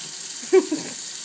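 Tap water runs steadily into a sink where a kitten plays, a constant hiss with a couple of brief splashes in the middle.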